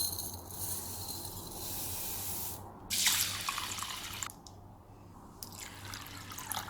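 Black kavuni rice is rinsed in water before soaking. A steady faucet-like rush of water runs throughout, with splashing surges and a brief louder gush partway through. No voices are heard.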